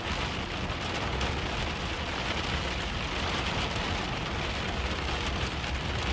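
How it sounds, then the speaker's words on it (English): Heavy storm rain pours down in northern Illinois, a dense, steady roaring hiss of drops on surfaces, loud and unbroken for the whole stretch with no voices. "The rain is absolutely pouring buckets here throughout northern Illinois."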